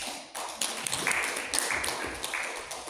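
A room claps for speakers at a debate competition with steady, moderately close applause. The clapping carries light tapping accents and continues evenly throughout.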